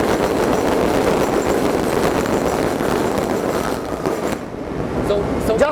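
A passing train gives a loud, continuous rumble and roar that eases slightly toward the end, followed by a few brief higher sounds.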